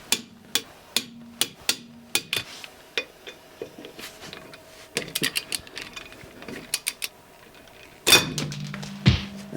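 Torque wrench clicking and ratcheting as wheel nuts, including cheap anti-theft nuts, are tightened to 90 Nm on steel rims: a steady run of sharp, close metallic clicks and ratchet bursts, with a heavier clatter near the end.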